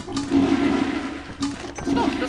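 A toilet flushes in the video game Lethal Company, a steady rushing water sound lasting about two seconds with a brief dip in the middle, with faint voices underneath.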